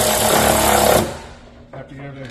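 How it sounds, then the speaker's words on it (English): An electric ratchet drives a bolt on a Duramax diesel engine, a loud, steady mechanical whir for about a second that stops abruptly, followed by faint clicks and handling sounds nearby. "I got a pretty good feel with this electric ratchet here"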